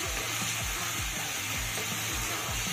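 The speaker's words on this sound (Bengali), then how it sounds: "এবার ধীরে ধীরে কষিয়ে নেব যতক্ষণ না মশলার গা থেকে তেল ছেড়ে আসে।" Spice masala slowly frying in oil for a tengra fish curry, a steady close sizzle throughout with rhythmic low thumps from stirring, no talking.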